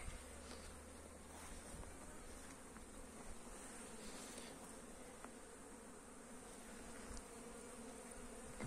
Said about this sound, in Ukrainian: в кожний вулик залітає бджола із пилком